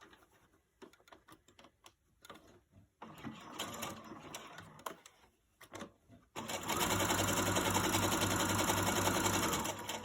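A sewing machine stitches a small pocket along a seam, starting with faint clicks and short taps, then breaking into a loud steady whir near the end.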